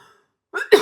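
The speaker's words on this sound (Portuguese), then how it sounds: "Piorou a tosse." A short, sharp cough bursts out after a moment of quiet, followed by a rough exhale.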